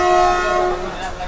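Train pulling in at Malda Town station, heard as a sustained, loud horn-like tone with steady pitch that rings out close and then drops away, over rumbling rail noise.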